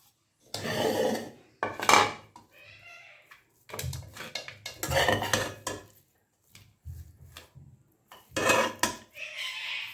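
Thick Thiruvathirai kali is scraped and transferred from one pot into another vessel, with intermittent loud metallic scrapes and rasping strokes separated by short pauses, close and without talk.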